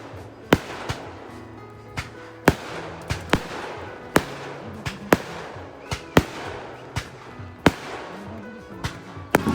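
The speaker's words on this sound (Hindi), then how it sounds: "अभी यहाँ पे पटाखे फोड़े जा रहे हैं भाई" Firecrackers burst at a wedding venue as the bride is welcomed, a dozen or so sharp, loud cracks spaced irregularly about a second apart over a busy background of crowd noise and music.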